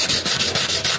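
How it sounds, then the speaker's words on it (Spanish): Close, rapid back-and-forth sanding strokes scrape over the edges of thin ceramic tile, about five quick rasping passes in a steady rhythm. "Entonces hay que hacer este trabajo de lijado."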